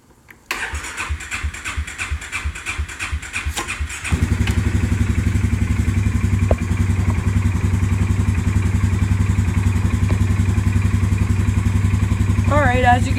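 A Polaris Sportsman 570 EFI ATV gets a cold start: rapid rhythmic cranking for about three and a half seconds, then the engine catches and settles into a loud, steady, close idle.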